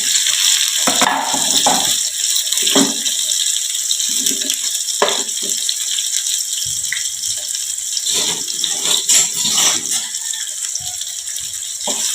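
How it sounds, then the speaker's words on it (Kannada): Mustard seeds and cumin sizzle in hot oil for tempering, a steady bright hiss broken by scattered pops and crackles, close and fairly loud with no talking. "ಸಾಸಿವೆ ಜೀರಿಗೆ ಒಗ್ಗರಣೆಗೆ"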